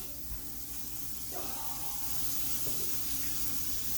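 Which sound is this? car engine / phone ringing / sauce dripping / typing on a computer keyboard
sauce dripping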